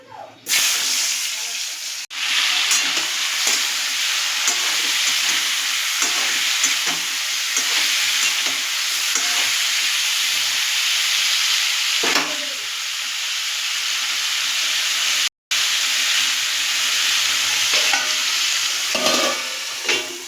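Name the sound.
jackfruit pieces frying in hot oil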